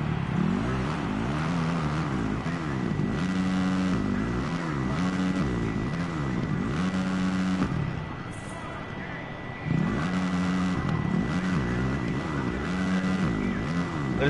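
Dirt bike engine in the Monster Energy Supercross 2 racing game, a continuous loud revving drone that rises and falls with throttle and gear changes, dipping briefly near the end before surging again, with no talk over it.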